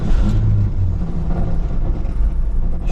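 A Ford F100 truck engine catches and runs with a loud, close, uneven rumble that settles into a steady idle.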